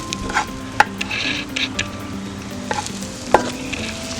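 Onions fry in coconut oil for Kerala chicken kurma, a moderate sizzle broken by sharp clinks and scrapes of a spoon against the pan.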